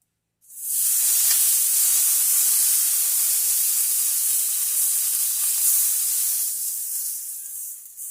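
Butter melting in a flat cast iron pan on the stove for pot bake dough, giving a loud, steady sizzling hiss that starts abruptly and holds strong, easing off slightly near the end.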